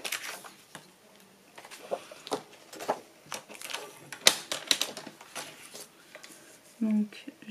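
Paper being cut for a handmade beach-themed card: a string of crisp, light snips and clicks at irregular intervals, close by, with a soft voice talking and low background murmur.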